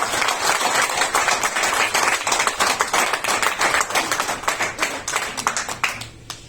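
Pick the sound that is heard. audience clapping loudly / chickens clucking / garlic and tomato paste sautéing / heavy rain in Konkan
audience clapping loudly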